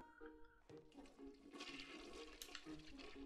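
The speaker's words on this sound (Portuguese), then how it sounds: "Dá descarga também." A toilet flushes in Zelda: Skyward Sword HD, a rushing, gurgling swirl of water that swells and holds at moderate loudness for a few seconds, with a game music tone underneath and no talk.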